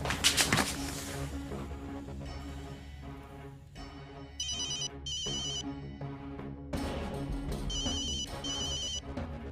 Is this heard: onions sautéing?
no